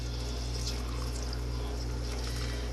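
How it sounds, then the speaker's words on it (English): Hot water is poured into a pot of soup that already holds rendered bacon fat, making a steady, close, continuous pouring hiss. "To that, we're going to add our 3/4 of a cup of hot water."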